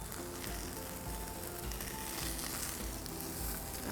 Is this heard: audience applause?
no